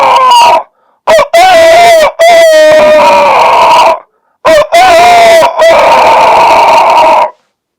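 A voice imitates a rooster crowing, a series of loud, close, drawn-out crowing calls in separate bursts with sharp gaps of silence between them.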